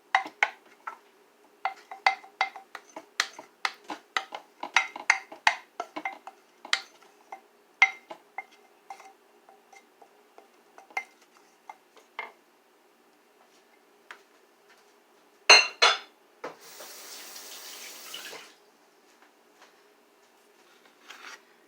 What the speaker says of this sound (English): Just give the spices a little bit of a mix, and then you're going to dump that entire bowl into the crock pot.